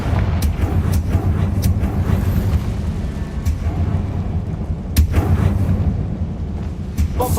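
Confringo fire-blast spell in Hogwarts Legacy sets off a continuous low rumble of booms and crackles, with several sharp blasts punching through near the middle and the end.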